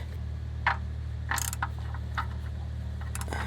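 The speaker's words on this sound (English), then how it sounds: "finish tightening it with your ratcheting wrench" A ratcheting wrench tightens the M20 oil drain plug on a Subaru Forester, giving a few short, separate clicking bursts over a steady low hum, close by with no talking.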